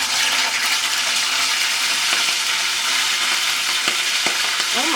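Griot, Haitian pork, fries in grease on a stovetop with a steady, dense sizzle and crackle that runs without a break, and no talking over it.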